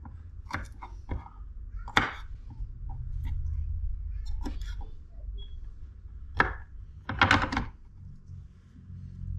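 Garlic being chopped with a knife on a board in a home kitchen, a dozen or so sharp irregular knocks in short bursts over a low background hum, fairly close, with no voices.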